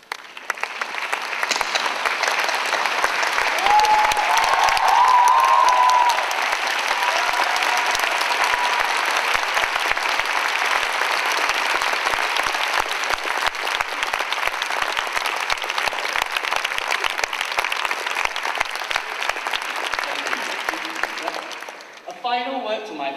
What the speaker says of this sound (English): I would like to invite the graduating class of 2009 to stand and join me in giving a round of applause to our relatives.